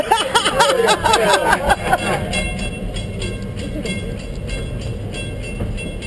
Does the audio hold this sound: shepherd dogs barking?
no